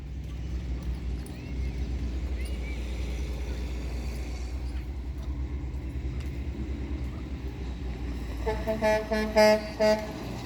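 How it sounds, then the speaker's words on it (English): Several short vehicle horn honks near the end, loud and close, following a stretch of engine rumble and faint background noise. "honk a horn while he's on a horse."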